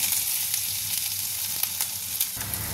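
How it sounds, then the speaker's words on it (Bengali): Cumin seeds, bay leaf and grated ginger sizzle in hot ghee in a pan, a dense, steady crackling fry heard up close with small pops throughout. "ঘিটা গরম হয়ে গিয়েছে, আমি এখন একটু সাদা জিরে দিয়ে দেবো, একটু তেজপাতাও দিয়ে দেবো"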